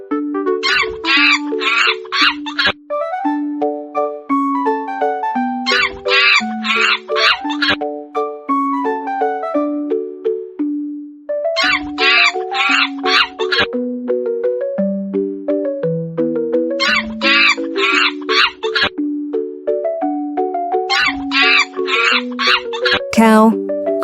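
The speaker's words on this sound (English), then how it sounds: "Monkey. Con khỉ." Monkey calls come as five loud, screechy bursts spaced several seconds apart, over a steady chiming music melody.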